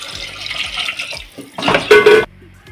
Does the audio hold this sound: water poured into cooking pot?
yes